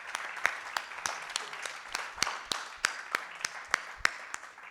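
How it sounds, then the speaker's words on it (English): Audience at a business conclave applauding in scattered, sparse claps, individual sharp hand strikes spaced irregularly across the span at moderate room distance, with no talking over them. "So I just wanted everyone here to clap for her"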